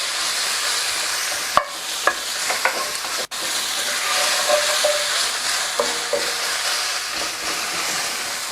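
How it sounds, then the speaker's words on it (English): Tomato paste sautéing in a hot pan for braised short ribs, with a steady broadband sizzle and several sharp spoon scrapes and clicks against the pan, close and loud with no speech. "just using a spoon, we're going to saute the tomato off."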